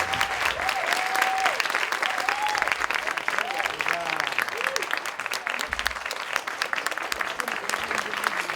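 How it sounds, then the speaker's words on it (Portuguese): A theatre audience gives two performers a big round of applause at the close of a stage event, with loud, sustained clapping filling the room and a few voices calling out over it. "Vamos dar um super aplauso para os dois e a gente encerra"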